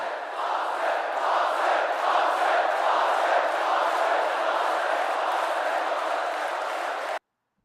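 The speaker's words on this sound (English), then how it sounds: "that's people cheering" A large crowd cheers and roars in a continuous, dense wash of voices for about seven seconds, loud and sustained, then cuts off abruptly into silence.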